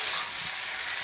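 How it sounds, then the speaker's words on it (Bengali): Leafy greens (shak) dropped into hot oil already browning onion and garlic, giving a loud, steady hiss and sizzle that holds for about a second with no voices. "আমি দিয়ে দিচ্ছি শাক। একবারে তেলে দিয়ে দিলাম।"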